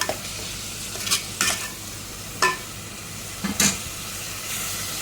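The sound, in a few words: frying prawn keema balls in a pan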